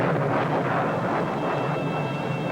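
High-speed military jet aircraft flying, a steady broadband roar with wind-like rushing and a faint high whine, continuous and fairly loud throughout.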